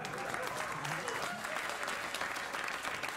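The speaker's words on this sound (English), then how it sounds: "Half of you clapped" A late-night talk show studio audience claps in a brief, moderate burst of scattered applause, with a voice talking over it.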